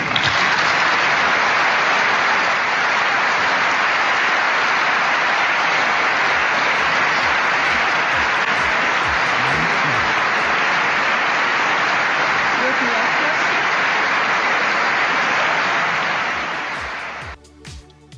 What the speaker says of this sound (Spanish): vamos a correr unos cuantos segundos de esa ovación de 1 minuto